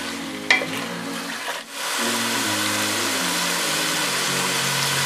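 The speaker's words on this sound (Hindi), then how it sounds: "अब हम इसमें चने डालेंगे। इन्हें भी हम 2 से 3 मिनट तक अच्छी तरह भून लेंगे।" Chickpeas sizzle and crackle steadily in a hot pan, with occasional stirring and soft background music underneath.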